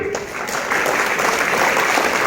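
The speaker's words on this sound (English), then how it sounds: "All of you please clap for them." An audience applauds students taking part in a class VIII preamble recitation competition at a school morning assembly, a dense, steady wash of many hands clapping that fills the whole stretch without pause.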